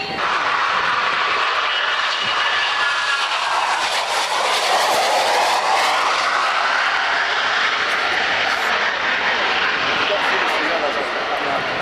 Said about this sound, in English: the net final result is an aeroplane that handles extremely well